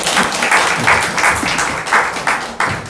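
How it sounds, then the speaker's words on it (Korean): Korean church congregation clapping during a Sunday worship service, loud and close, a rhythmic burst of many hands with regular pulses, no talking over it. "박수 한번 다시 한번"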